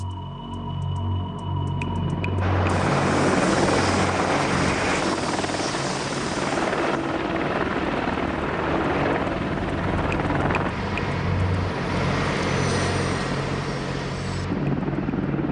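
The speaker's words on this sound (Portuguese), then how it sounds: "Esse é o helicóptero Apache AH-64A do Exército Norte-Americano," A US Army Apache AH-64A attack helicopter roars loudly overhead, its rotor beating with a low, steady thump under broadband whooshing noise that swells after a quieter start.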